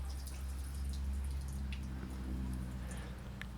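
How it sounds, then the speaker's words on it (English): Water drips and patters in small irregular drops out of a Triumph Daytona 600 motorcycle exhaust over a steady low rumble, close by and fairly quiet. "There's a lot of water pouring out this exhaust still."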